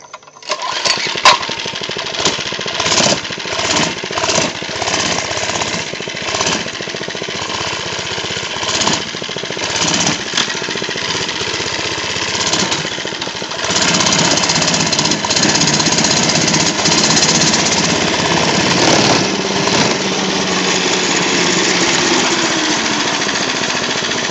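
A Baja Racer 97 cc mini bike engine runs up close with a rough, shaky idle, then revs up and settles into a steady drone as the bike rides off.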